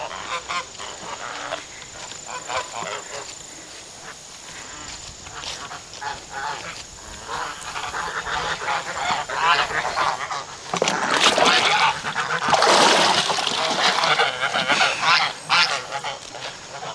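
A flock of farm geese honks loudly and repeatedly with ducks quacking among them, rising into a dense, close chorus of overlapping calls in the second half.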